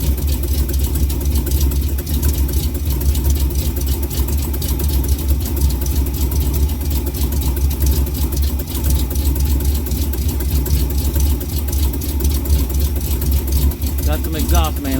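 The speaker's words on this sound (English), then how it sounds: "Got some exhaust manifold leak." A 1974 Ford Gran Torino Elite V8 idles steadily with an exhaust manifold and header leak, a loud, low, rumbling drone with a ticking pulse throughout, as someone talks over it nearby.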